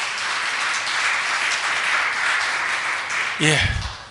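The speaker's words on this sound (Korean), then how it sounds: "우리 허정윤 집사님과 정수현 청년에게 다시 한번 격려의 박수 부탁드립니다" A church congregation at a Palm Sunday service applauds after a musical performance, with steady, fairly loud clapping from many people, then a voice briefly speaks as the clapping fades near the end.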